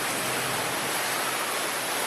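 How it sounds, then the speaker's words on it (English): Steady broadband rush of a waterfall at Volcano Bay water park, a constant dense wash of falling water, fairly loud and close, with no voices. "you do have to walk through a waterfall"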